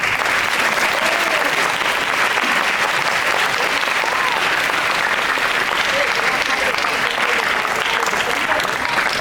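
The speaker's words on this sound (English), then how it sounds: "Let's give them a round of applause." Sustained, dense applause from a large crowd at a student leaders' investiture ceremony, loud and even throughout.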